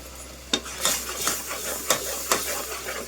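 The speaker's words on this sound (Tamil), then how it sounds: "இப்போ இதை நல்லா கிண்டி விட்டுடலாம்" A spoon stirs a salted spice mixture in a cooking pan: several close, crisp scraping strokes come in an uneven rhythm over a faint background hiss.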